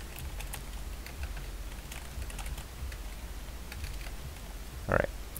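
A computer keyboard clatters in quick, light, uneven bursts of typing close by, with a brief louder tap near the end and no talking.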